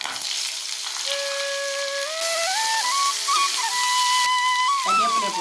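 Mustard seeds, coconut and onion sizzle in hot oil in a pan while making a jackfruit seed roast. A steady hiss runs throughout, joined partway by a thin, wavering whistle-like tone.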